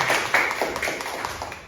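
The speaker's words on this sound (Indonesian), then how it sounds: "Mungkin kita berikan aplaus dulu untuk Pak Dipo." A short burst of studio audience applause, a small group clapping quickly and fairly close, fading out within a couple of seconds without talk.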